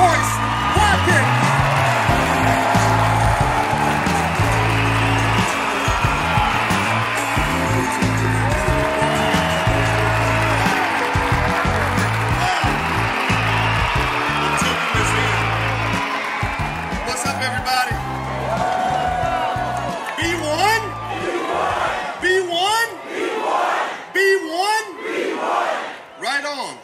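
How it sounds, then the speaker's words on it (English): Rally crowd roaring and cheering in a loud, continuous wash of voices and applause that fades slightly toward the end, ending in scattered sharper bursts. "give a nice warm round of applause to my good brother, Dr. Boyce Watkins"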